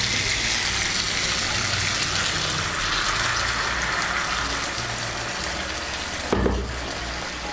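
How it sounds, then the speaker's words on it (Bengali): One cup of hot water poured into a pan of simmering pumpkin and potato curry, making a steady close gushing, bubbling wash of liquid that continues for several seconds, ending with a brief clunk. "আমি এর মধ্যে 1 কাপ গরম জল"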